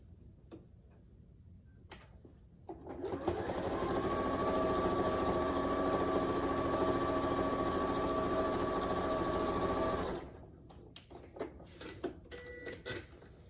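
A sewing machine runs steadily for about seven seconds, stitching a quilt-as-you-go Christmas stocking strip with a close, even mechanical whir, framed by soft handling clicks and rustles before and after.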